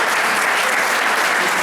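An audience at a cycling club awards evening applauds, a dense, loud, continuous burst of clapping filling the room.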